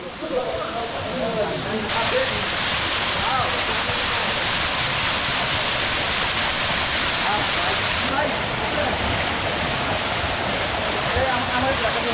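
Napittachora waterfall on a forest trail in Sitakunda roars nearby, a steady, loud rush of falling water that never pauses and fills the whole scene.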